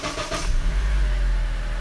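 A Honda 2.4L VTEC engine cranks briefly and catches, settling into a loud, steady low idle rumble close by after the start.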